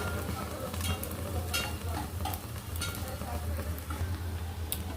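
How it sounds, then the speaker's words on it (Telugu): Spicy vegetable rice being stirred in a pan, a soft continuous sizzle with scraping and stirring strokes over a low steady hum, fairly quiet throughout. "రైస్ వేసాము కదా, దీన్ని ఇలా మంచిగా మిక్స్ చేసి"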